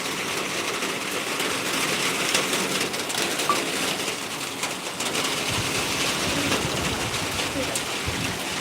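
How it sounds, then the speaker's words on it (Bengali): Steady, heavy rain pouring down, a dense continuous hiss with no talking over it. "দেখো কত জোরে জোরে হচ্ছে বৃষ্টি"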